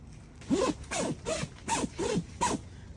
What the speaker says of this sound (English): Best zippers ever. So easy. Don't need two hands, just need one hand.